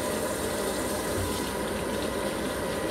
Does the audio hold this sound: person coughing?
no